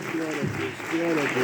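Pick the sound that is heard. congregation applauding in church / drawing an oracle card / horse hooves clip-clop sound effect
congregation applauding in church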